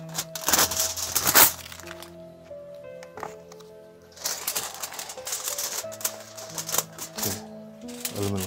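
Aluminum foil is cut and pre-shaped over the top of a glass jar, producing sharp crackles, crinkles and clicks in bursts, with quieter gaps and a soft sustained tonal backdrop.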